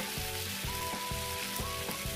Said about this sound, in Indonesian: Nah kita panggang, kita bolak-balik ya